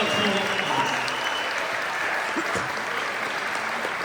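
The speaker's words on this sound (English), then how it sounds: "let's give a big round of applause for the marching band" Steady, loud applause from an audience at a school instrumental music awards banquet, honoring the marching band; dense clapping fills the whole stretch without pause, with faint voices mixed in.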